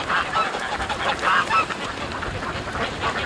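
Geese honking in a strong north wind, several loud overlapping calls close by, with a gusty wind rush underneath.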